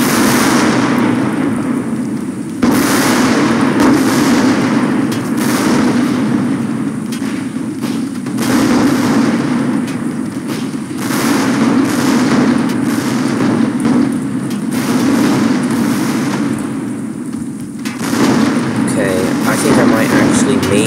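Artillery pieces firing in the Total Tank Simulator video game, with repeated loud booms and a dense rolling rumble of battle continuing throughout.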